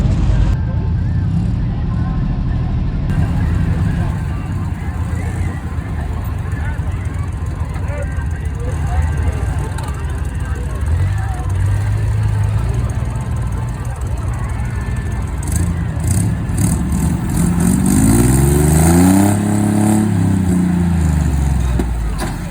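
A light 1970 Jeep CJ5 with lockers and a V6 engine revs while hooked to a pulling sled at an antique machinery show, the engine roaring and surging in rising and falling bursts, with crowd noise and a voice speaking over it.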